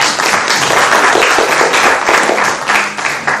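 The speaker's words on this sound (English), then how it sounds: "So please, a huge round of applause for..." Loud, dense applause fills a Senate Hall plenary session of an international Gita conference, steady clapping from a large seated audience sustained throughout with little else heard.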